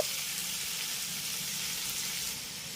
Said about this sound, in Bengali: লো ফ্লেমে এইভাবে ঢাকা চাপা দিয়ে আমি আঙুরগুলোকে মাঝে মাঝে একটু নেড়ে চেড়ে ভেজে নেবো